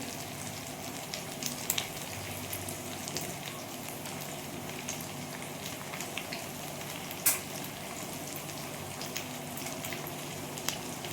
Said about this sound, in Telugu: బాగా రోస్ట్ అవ్వాలి చికెన్ అయితే బాగా వేగింది